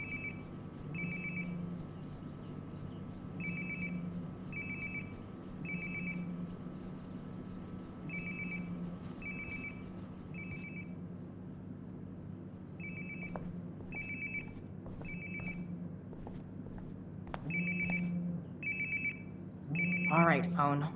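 A cell phone rings in the Life is Strange: Before the Storm video game, regular bursts of a bright electronic ringtone repeating for some time over a low ambient bed, later fading as other game sounds enter.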